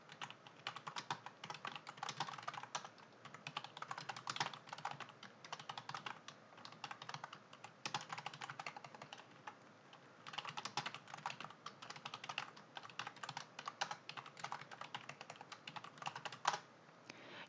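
Steady, rapid typing on a computer keyboard while entering spreadsheet content in Excel, with close, quiet clicking keystrokes continuing for the whole stretch and no voices.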